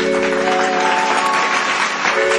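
A stage show crowd welcomes an Odia singer with applause, dense and steady throughout over a sustained musical tone, loud and close.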